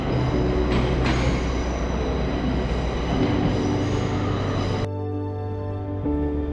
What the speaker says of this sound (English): 800 class Azuma train departs from platform 3.